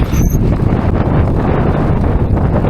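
Strong wind buffets the microphone on an open, treeless mountain bike trail in Wales, a loud continuous roar and rumble throughout with no talking.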